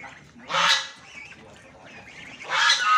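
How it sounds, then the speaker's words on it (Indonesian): Ducks coming out of their pen give two loud, nasal honking quacks a couple of seconds apart, close by, with quieter rustling between them. "bebeknya keluar semua nih, ada bebek juga ternyata"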